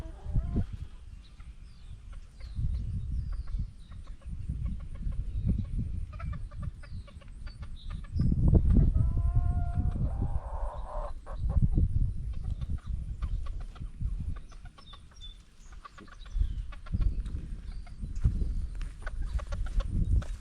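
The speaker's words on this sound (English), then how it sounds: "it looks to me like a bantam barred rock" A bantam barred rock chicken clucks in soft, repeated bursts close by on a farm, with a brief higher call in the middle and steady background noise.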